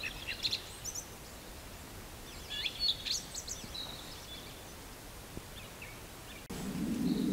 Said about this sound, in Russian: Птичка рядом.